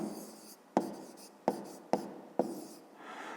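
Writing out an answer for a fifth-grade maths exercise: four evenly spaced scratchy pen strokes on paper, close and quiet, with no voices.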